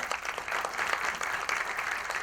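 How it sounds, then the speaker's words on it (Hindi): Brief applause from an audience at a trailer launch event, a soft, steady patter of clapping from a seated crowd, fairly distant and even, lasting only a couple of seconds with no talk over it. "क्या बात है, तालियां।"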